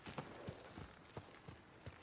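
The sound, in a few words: horse hooves clip-clopping in a video game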